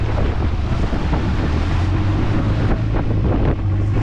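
A boat crosses rough sea on the way to Railay in Krabi, Thailand, with strong wind roaring across the microphone, a low engine rumble and waves slapping the hull, loud and continuous without talk.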